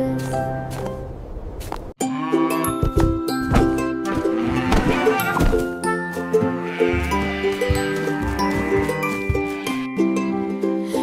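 Sheep bleating repeatedly in a children's nursery-rhyme song, several close, loud calls mixed over bright music with chimes.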